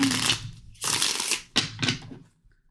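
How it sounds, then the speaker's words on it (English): Several quick riffling bursts of a card deck being shuffled up close, each a crisp papery flutter followed by a brief pause. "I'm going to shuffle a couple more times"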